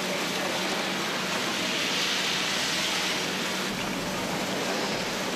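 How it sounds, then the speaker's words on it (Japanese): Sudden heavy rain pouring down at a hot spring resort town in Murakami, Niigata, a dense, steady hiss filling the scene throughout with no voices. "この日も突然大雨に。"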